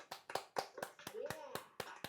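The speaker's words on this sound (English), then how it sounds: "let's clap it up for those guys" A few people clap sparsely for a group after a show, with roughly a dozen separate, uneven claps close by and a voice talking over part of it.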